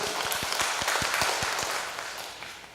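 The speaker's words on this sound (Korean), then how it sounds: "우리 박수로 한번 격려하겠습니다" Congregation in a church service clapping together to welcome a visitor from Toronto, Canada: dense, steady applause with a few sharp low claps standing out, sustained throughout and easing slightly toward the end.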